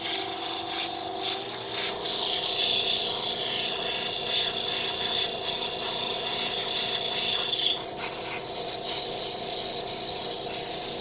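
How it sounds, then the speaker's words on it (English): A power grinder works the edges of a wooden piece, a steady loud abrasive whine and rasping hiss continuing throughout with slight changes in pitch as pressure shifts, close and without talking. "Let's grind a little more."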